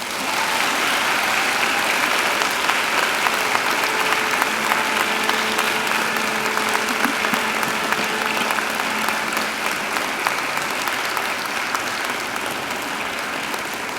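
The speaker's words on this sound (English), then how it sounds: "I invite you to give them a mighty round of applause" Steady, dense applause fills a large graduation ceremony hall as graduates clap for their families and friends, sustained and loud for the whole stretch with no pauses.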